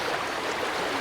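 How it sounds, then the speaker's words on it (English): In the Sons of the Forest video game, a waterfall and flowing stream give a steady, loud rush of water that holds an even level throughout, with no voices. "Because it's at like a damn straight up waterfall now."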